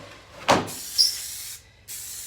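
Several short hissing bursts from a paint sprayer applying coats of paint on a vintage camper kitchen, close by, separated by brief pauses.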